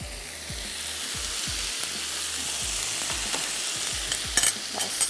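Pasta roll filling sautés in a pan with soy sauce, black pepper and crushed red chili, giving a steady sizzle broken by regular scraping strokes of a spoon stirring the mixture.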